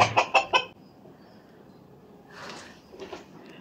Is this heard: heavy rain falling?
no